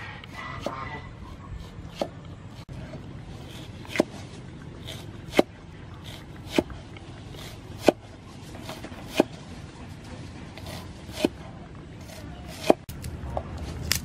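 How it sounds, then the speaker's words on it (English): Knife chopping salad vegetables on a cutting board, about a dozen crisp single chops spaced roughly a second apart, close and clear over a low steady room background. "Cut salad."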